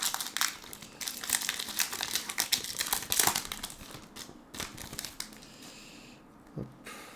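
Foil-and-plastic wrapping of Pokémon card booster packs from a 151 collection box crinkles and tears in dense, rapid bursts, loud and close, with scattered pauses and no voices.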